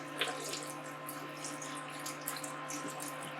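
Chicken stock pours from a 32-ounce bottle into a pot of collard greens, making a steady close liquid splash and gurgle with a few small drips, with no voices.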